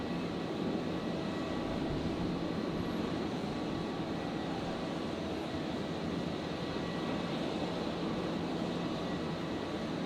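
An aircraft touches down on runway 01 right at Brisbane Airport at night, a continuous broadband rumble and roar of engines and airflow at fairly even loudness throughout.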